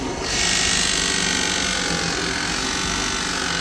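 A 1.5-inch Forstner bit bores a sound hole through wood for a small guitar, a loud, steady whirring grind that starts abruptly and runs continuously up close.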